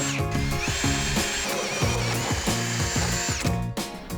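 A power drill boring through the sheet-metal body of a van, whining motor with rhythmic surging and grinding bites, loud and close, no talk.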